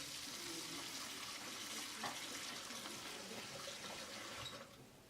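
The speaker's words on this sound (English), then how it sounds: "We fill it up with sink water for stop bath." Water runs steadily from a sink tap into a film developing tank being filled for a water stop bath, a constant rushing splash that eases off near the end.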